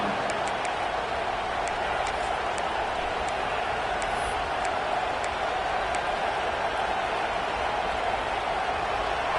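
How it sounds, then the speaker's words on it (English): A dense, steady roar from a crowd at a college football game between Ole Miss and Oklahoma fills the stadium, loud and continuous with no breaks. "This crowd ready to make its presence known."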